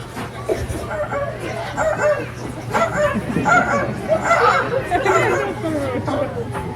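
A talking macaw mimics a dog's bark in short, rough bursts over a steady hum, with background chatter and other bird sounds throughout, at a safari park.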